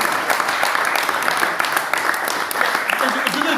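An audience claps in a steady, fairly loud round of applause, and a voice can be heard speaking over the clapping.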